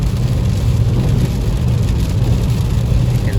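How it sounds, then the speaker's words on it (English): Heavy rain and strong wind on a 2023 Nissan Versa S manual doing 80 mph down a highway, a loud, steady roar of road noise and rain spray with no voices. "heavy rain, heavy wind."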